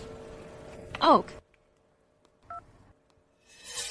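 A telephone number is dialed as a short burst of keypad tones, then a single steady tone pair; no voices, with near silence between and a hiss of background noise rising at the end.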